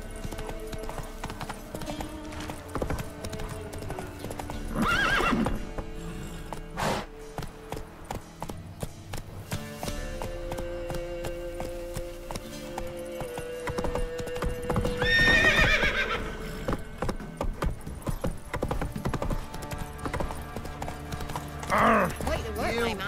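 Hooves of Roach, a horse in The Witcher 3: Wild Hunt, clip-clop at a steady galloping rhythm throughout, with a few whinnies rising above the pounding and game music and speech in the background.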